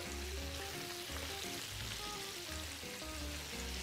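Steady, loud sizzle of chicken frying in a casserole pan for pollo a la riojana, a dense continuous crackle close up with no talking.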